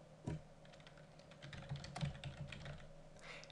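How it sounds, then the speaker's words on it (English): Light tapping on a computer keyboard while a message is typed into an online shop order page, a quick uneven patter of keystrokes at close range with no talking. "type your message to the customer"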